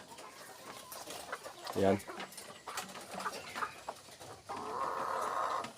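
Chickens cluck and call intermittently in the background while a person speaks nearby, with a louder squawk early on.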